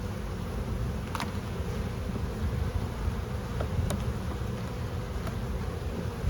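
Honeybees hum steadily in an opened hive colony during a split inspection, a dense close buzz with a few brief sharper individual passes rising out of it.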